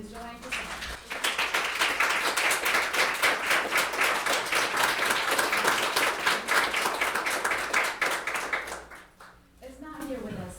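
Sustained, dense applause fills a school graduation ceremony, with steady clapping from many hands that continues for several seconds before thinning out near the end.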